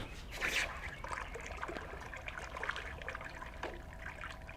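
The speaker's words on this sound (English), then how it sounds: "Let's take this to the quench tub." Hot forged steel bookmark dunked into a water quench tub, giving a soft trickling, bubbling hiss of water that rises briefly near the start and then settles into a steady low burble, fairly faint and close with no talking.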